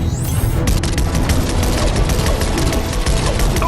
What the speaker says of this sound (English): I was hoping we'd have an excuse to try out the battle bus's laser cannons.